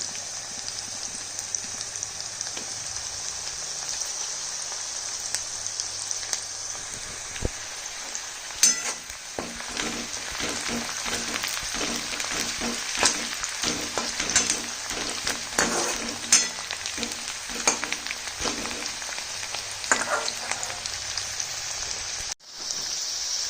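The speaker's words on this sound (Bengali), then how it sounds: "আর এই পেঁয়াজটা মোটামুটি ভাজা হয়েছে" Onions fry in a pan on a gas stove with a steady crackling sizzle, irregular pops and spatters running throughout at close range with no talking.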